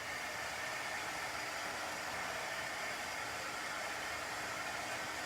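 Hair dryer blowing on chalk paste over a craft tray, a steady loud whooshing roar of motor and airflow that holds unbroken throughout.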